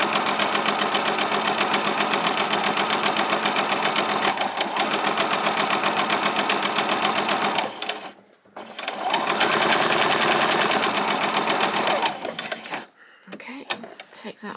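A sewing machine runs a long row of stitches on apron fabric, a steady fast mechanical whirring hum that stops briefly, starts again at full pace, then trails off into a few short stops near the end.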